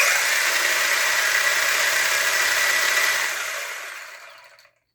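DeeRC Viper H16R brushless RC car running at 70% throttle, a loud high-pitched motor whine held steady for about three seconds, then winding down and fading to silence.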